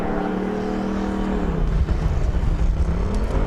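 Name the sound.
Formula Student race car driving skid pad run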